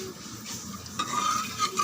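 A spoon stirs rice, water and rock salt in a pot, giving a soft scraping swirl that grows slightly louder toward the end, with no voices.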